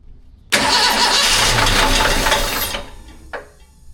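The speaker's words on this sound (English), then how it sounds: "I probably Should have got the motor running first." An old vehicle, back on the road after nearly fifteen years off it, has its motor engine crank and catch in one loud burst of roughly two seconds, then fade out, followed by a brief softer rev.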